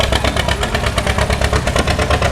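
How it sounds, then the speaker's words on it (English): A loud, close John Deere tractor engine idles with a rapid, steady popping beat from an open straight-pipe exhaust. "I hear a John Deere pop-in tractor."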